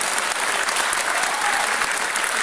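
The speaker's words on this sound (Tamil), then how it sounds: "கைதட்டுறாங்க ரொம்ப நல்லா இருந்தது" Dense, steady applause from an audience at a corporate celebrities awards event in 2017, continuous broadband clapping filling the whole stretch without pause or voices.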